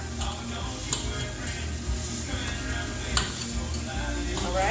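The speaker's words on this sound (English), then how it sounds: "you hear that sizzle? That means that sauce is starting to dry up." Seafood casserole sauce with shrimp cooking down in a pan, a continuous close sizzle and frying hiss with occasional light clinks of a utensil stirring against the pan.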